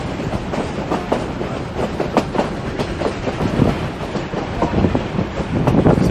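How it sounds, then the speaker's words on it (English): Durango–Silverton steam train rolling along its rails: a loud, continuous rumble with rhythmic clickety-clack and wind buffeting, heard close up from on board with no talking. "train needs steam to keep moving"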